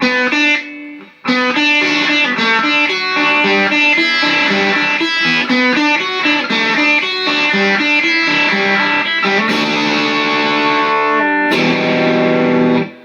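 Distorted electric guitar chords strummed steadily and loudly, with a brief pause near the start and a sharp accent toward the end.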